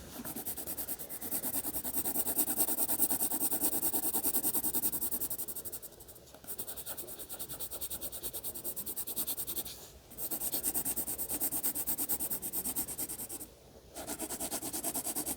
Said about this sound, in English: I can go ahead and fill in the red color in the bow. Turning my pencil.